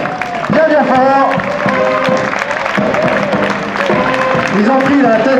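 Crowd applause for a quadrathlon relay team of two brothers and a cousin, a steady wash of clapping running under a loud announcer's voice throughout.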